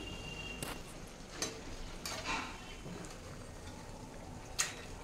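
Ribbon murukku fry in hot oil with a steady low sizzle, while a utensil scrapes and clinks against the pan in occasional sharp taps.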